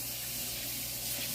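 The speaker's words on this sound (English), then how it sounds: "wash this bowl." Running tap water splashing while a bowl is washed in a kitchen sink, a brief steady hiss of spray up close with no talking.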